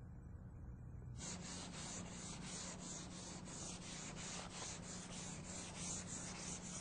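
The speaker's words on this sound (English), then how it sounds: "come back and sand the spot and glazing putty with 180 to 220 grit sandpaper" Glazing and spot putty is sanded by hand with 180–220 grit sandpaper, a loud, close, rhythmic scratching of repeated strokes that starts after a brief quieter moment and continues steadily.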